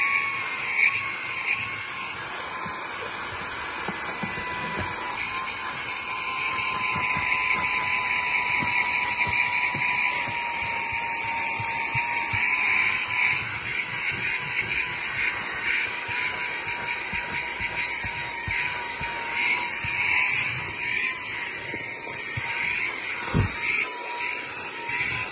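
A portable car vacuum blower runs continuously with a high, steady whine and airy hiss, loud and close, holding a constant pitch with minor fluctuations and no talk.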